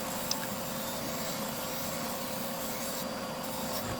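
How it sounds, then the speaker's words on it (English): WEN disc sander rounding over the edges of wooden fence pickets, a steady close grinding whir with continuous abrasive rubbing that holds level throughout. "I use the disc to curve the edges around."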